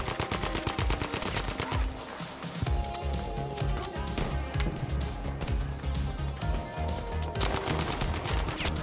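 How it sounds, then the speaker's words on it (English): Gunfire rattles through a hardcore Battlefield 5 match: rapid, close automatic bursts and single shots crackle almost nonstop, with a brief lull partway through. "Stop shooting my people."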